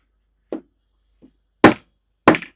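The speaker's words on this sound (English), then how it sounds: "hit it with a hammer to form a strong hold" Sharp metallic taps ring out one by one as a hammer sets a mini bag's clasp, a light hit followed by two louder strikes, close up with silence between them.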